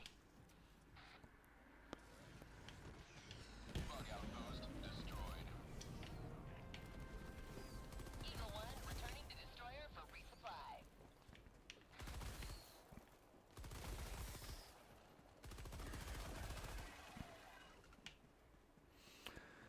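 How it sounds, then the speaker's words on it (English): Airstrike and gunfire in the shooter game Helldivers 2 against robotic enemies: a long stretch of rumbling blasts, crashes and bursts of shooting, then choppier explosive hits and lulls, loud and busy throughout. "Dropping an airstrike on these fools."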